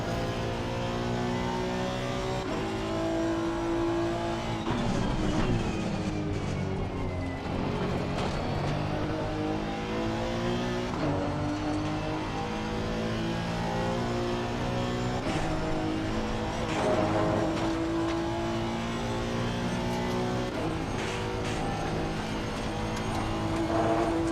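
Race car engine in a racing video game holds a steady, loud drone through corners, its pitch rising and falling with throttle, with no talk over it.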